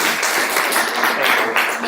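Dense, continuous applause from an audience, steady and fairly loud throughout, with no distinct individual claps standing out.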